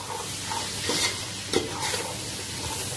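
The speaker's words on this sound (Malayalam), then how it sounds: "ഇനി നമുക്ക് ഈ പച്ചക്കറി ഒരു 5 മിനിറ്റ് ഒന്ന് വഴറ്റിയെടുക്കാം" Mixed vegetables with ginger-garlic paste sauté in a pan over a medium flame for vegetable biryani, a steady close sizzle broken by a few scraping stirs of a spoon.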